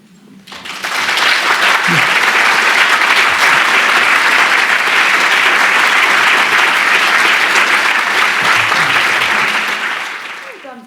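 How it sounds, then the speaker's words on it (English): A lecture audience breaks into loud, sustained applause after Margaret Atwood's 2014 Sebald Lecture on translation. The dense clapping swells in quickly, holds steady, then tapers away at the end. "Continuing to clap whilst I do some shuffling of glasses here."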